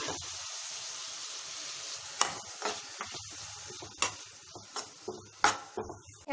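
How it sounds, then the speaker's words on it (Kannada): Chopped capsicum frying in butter for pav bhaji gives a soft, close sizzle with sharp spatula taps and scrapes against the pan at irregular moments, growing busier toward the end, and nobody speaks. "ಕ್ಯಾಪ್ಸಿಕಮ್ನ ಒಂದು 2 ರಿಂದ 3 ನಿಮಿಷಗಳ ಕಾಲ ಬೆಣ್ಣೆನಲ್ಲಿ ಚೆನ್ನಾಗಿ ಫ್ರೈ ಮಾಡ್ಕೊಳ್ಳೋಣ"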